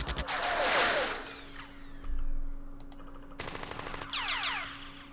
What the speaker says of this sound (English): Machine guns doing their job.